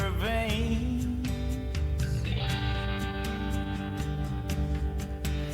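Country song playing, with a sung vocal line over steady instrumental backing and rhythmic accents, loud and continuous.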